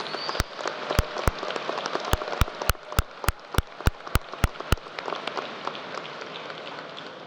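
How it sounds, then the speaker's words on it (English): Graduation audience at a high school ceremony applauding families and supporters, a broad wash of clapping with sharp, regular claps standing out near the front before the applause thins toward the end. "Graduates, please give your families and the people who have cultivated and supported you a big round of applause"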